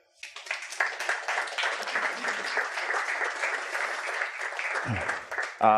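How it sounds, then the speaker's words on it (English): Audience clapping at an architect marketing summit in New York City as a volunteer is called to the front, a full round of applause that starts abruptly, stays steady, then stops, with a brief voice at the very end. "Give her a clap"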